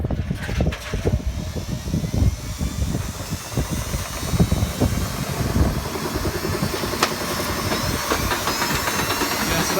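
A Dyson CR01 washing machine, damaged after spinning with a brick inside, runs with a loud, steady roaring drum rumble and rattling and then pops out of gear, filling the whole stretch without a break.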